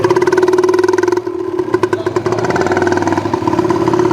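A motorcycle engine runs close by, a loud, steady buzzing drone that dips briefly and then picks back up with slight revving.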